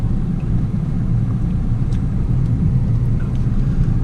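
A car stuck in desert sand near the border drones with a steady low engine rumble, its wheels straining continuously at close range without any voices.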